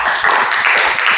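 Brief burst of dense clapping from participants in a training session, applauding a group, steady and fairly loud for just over a second.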